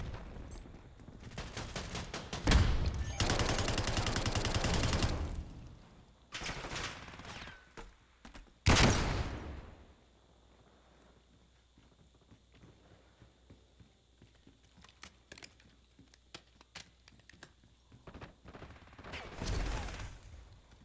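Call of Duty gunfire: loud automatic bursts around a few seconds in and again near the nine-second mark, scattered sharp single cracks and clicks between, and another burst toward the end, with no talking.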